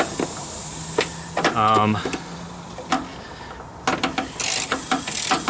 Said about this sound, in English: I'm using what's called a Wobble Extension right here